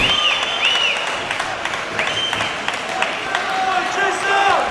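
A racquetball crowd at the 2006 US Open semifinal applauds steadily in an indoor court, loud sustained clapping and cheering with squeaky shoe chirps over it, while a commentator talks.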